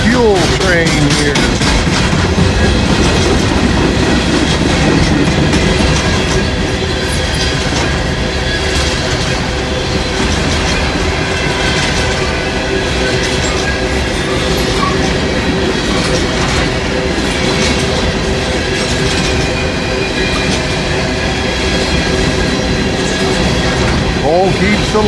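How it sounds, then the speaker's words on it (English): A long empty electric vehicle fuel train rolls past at close range on a mainline, giving a continuous loud rumble with rhythmic clickety-clack from the wheels and faint squeals over the rails. "Like we got us an empty electric vehicle fuel train here."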